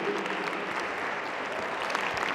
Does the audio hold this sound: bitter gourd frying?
no